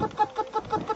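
A voice imitates a black hen clucking, giving five rhythmic, evenly spaced clucks in a quick series, close and clear, with no other sound around it.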